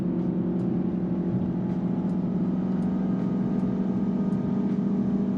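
A motorcycle with loud aftermarket exhaust pipes rumbles steadily close by, a continuous droning engine note holding for several seconds with no speech.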